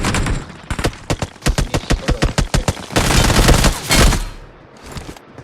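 Gunfire in the BGMI mobile battle royale game: fast bursts of sharp shots in a rapid rhythmic string, then a denser volley that trails off into quieter rumble near the end, with no talk.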